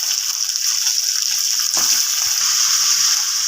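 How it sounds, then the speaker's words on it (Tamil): Tomatoes added to sautéed small onions fry in a pan for a sardine curry, giving a steady hiss of sizzling with a sudden thud midway and a few soft clatters after, with no voice. "இப்போ வெங்காயம் வதங்கினபடி தக்காளி நம்ம சேர்த்துக்கிறோம்."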